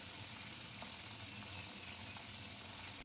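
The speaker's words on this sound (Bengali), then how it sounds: "এই ফুলকপিগুলো আমি হালকা মতোই ভেজে নেব।" Cauliflower florets frying lightly in hot oil give a steady, dense sizzle that holds evenly throughout, close and continuous, with no voices.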